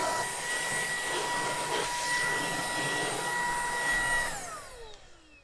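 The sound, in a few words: cordless vacuum cleaner vacuuming boat deck crumbs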